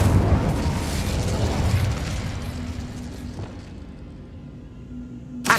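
Incendio fire spell bursting in Hogwarts Legacy: a loud crackling fiery blast that slowly dies away into a low hum, ending with a brief sharp pop.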